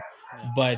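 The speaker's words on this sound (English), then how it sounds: "my dogs are screaming in the background" Dogs barking and yelping in the background of a home, heard faintly under a man's speech during a short pause in conversation.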